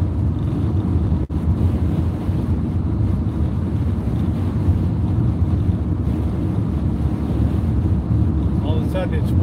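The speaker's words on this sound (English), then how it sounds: "Wind is definitely picking up now." Strong wind roars steadily against the microphone while driving up a long 6% grade, a loud, dense, continuous rush with no talk over it.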